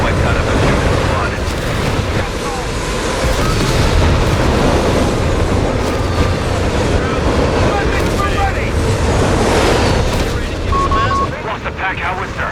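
An artillery barrage in the video game Company of Heroes 3 fills the scene with a loud, continuous wall of rumbling explosions and gunfire, dense and sustained throughout.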